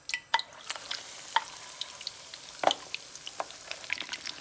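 Beer-battered fish frying in hot oil in a pan, a steady close sizzle with scattered pops and crackles throughout.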